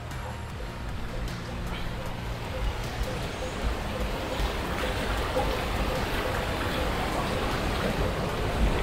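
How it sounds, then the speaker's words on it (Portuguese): Rushing water at the Gêmeos twin waterfalls on the Itapecuru river, heard from above the falls as a steady broadband roar that builds slightly, with people talking nearby. "E aqui a gente tá por cima da cachoeira Gêmeos, né? Ou cachoeiras Gêmeos."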